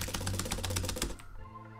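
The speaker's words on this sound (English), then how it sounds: "That is my broken spacebar." Rapid clacking keystrokes on a mechanical keyboard with a broken spacebar, a dense loud flurry that stops abruptly after about a second, leaving a low hum.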